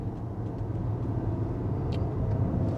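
Engine of a Maserati Levante S in sport mode, a steady, fairly loud low rumble that holds evenly throughout, with no voices.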